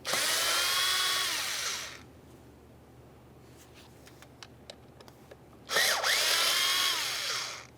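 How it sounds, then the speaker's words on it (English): A power driver with a T20 Torx bit backs out the two screws holding the mass airflow sensor on a 2.3L four-cylinder 1998-2011 Ford Ranger. There are two loud, whirring bursts close by, separated by a quiet pause with a few faint clicks. "use a T20 Torx bit to remove each of our 2 screws, holding the mass airflow sensor in place"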